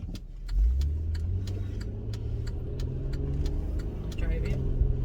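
A car drives along with a low engine hum and road rumble that swells early and stays steady, while regular faint clicks like a turn signal tick through it.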